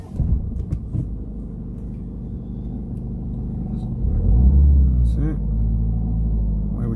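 A car pulls away from a stop during a driving lesson, its engine rumbling low and swelling louder partway through, then holding a steady drone, with people talking over it.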